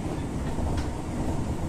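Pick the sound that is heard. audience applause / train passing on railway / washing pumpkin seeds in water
train passing on railway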